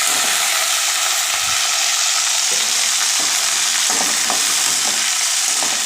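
Chopped onions and beans frying in a pan, a loud, dense, continuous sizzle close up with faint stirring scrapes running through it.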